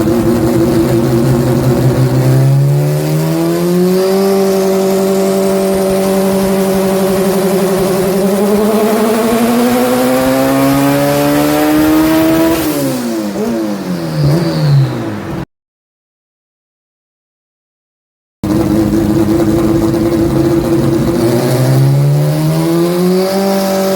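A Honda CRX making 980 hp on methanol with big injectors screams through repeated high revs on a FuelTech dyno, rising and holding loud, a short cut to silence, then roaring back up again.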